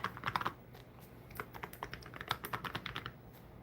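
Quick bursts of typing on a heavy mechanical keyboard with aluminum keys, a Razer Tartarus keypad nearby; dense clusters of keystrokes give way to a steady rhythm of close, crisp clacks with no talking.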